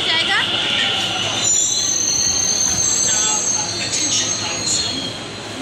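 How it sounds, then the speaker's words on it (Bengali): A Delhi Metro train arriving at a station, with loud, sustained high-pitched wheel squeal over a rushing rumble of the cars, the screech wavering and fading slightly toward the end, with faint voices in the background. "মেট্রো চলে এসছে"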